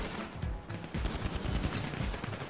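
Machine-gun fire in GTA V, a dense run of rapid low thudding shots that stay loud and steady with a brief lull partway through.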